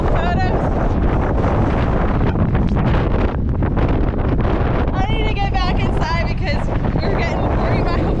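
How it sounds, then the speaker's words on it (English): Roaring 40-mile-per-hour blizzard gusts batter the microphone in a loud, continuous rush with surging peaks, heard over a person speaking. "We're getting 40-mile-per-hour gusts"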